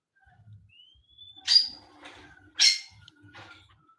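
Small birds in a backyard aviary around a mango tree give short, bright chirps and thin whistles, two louder calls standing out amid quieter scattered tweets in an otherwise calm setting.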